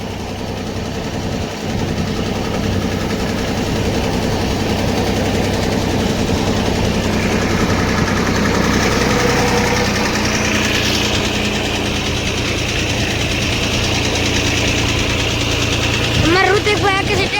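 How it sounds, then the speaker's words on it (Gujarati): A farm tractor runs steadily while a learner drives it, hauling a trolley loaded with vessels to fetch water from the Narmada; a continuous low, rumbling engine drone with a slight knock, with a brief sharper sound near the end. "ઋતિકભાઈ તે હજી શીખે છે ટ્રેક્ટર."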